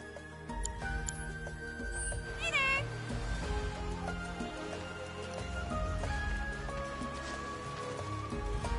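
A cat meows in Final Fantasy VII Rebirth, set in Gongaga: one short, clear rising-falling meow near the middle, over steady game music and ambient sound effects.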